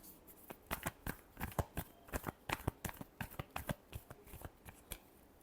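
Tarot cards being shuffled by hand, a quick run of about twenty crisp, close riffling snaps in uneven rhythm, fairly quiet with no talk.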